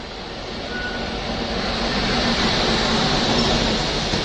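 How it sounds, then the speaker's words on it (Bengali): A freight train rolls past near Bolpur station, a steady broad rumble and rushing roar that swells slightly as it nears and holds at a constant level, no voices over it. "এদিক দিয়ে দেখো একটা মালগাড়ি যাচ্ছে"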